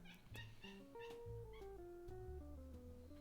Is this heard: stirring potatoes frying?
no